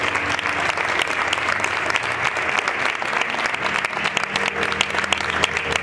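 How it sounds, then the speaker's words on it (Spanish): An audience at a networking event for the Xerez Deportivo FC sponsors claps steadily, a dense, sustained round of applause that carries on evenly at moderate loudness throughout. "darle un aplauso importante a Álvaro Richarte"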